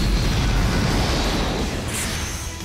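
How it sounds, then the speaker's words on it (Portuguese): A powerful Big Bang attack explosion in an anime fight between Saint warriors, a loud continuous roaring blast with dense low rumble sustained across the whole moment, no voices over it. "Explosão, ataque Big Bang!"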